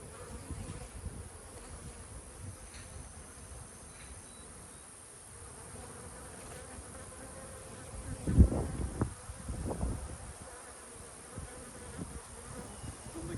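Honey bees hum steadily around a hive during jar feeding with sugar syrup, a soft continuous drone that grows louder and busier as individual bees fly close past the microphone near the end.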